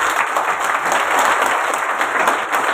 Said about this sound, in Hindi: अपने लिए जोरदार ताली बजाइए